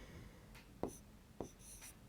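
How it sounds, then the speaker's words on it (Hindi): Pen or chalk strokes sound as numbers are written during a primary-school maths lesson: a few short, faint scratches spaced apart, close by, with no talk. "अब यदि हम इसे लिखेंगे"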